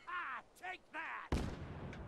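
A grenade goes off in Fallout 4, a single loud, sharp blast that cuts in after a few bursts of talking voice and leaves a rumbling tail.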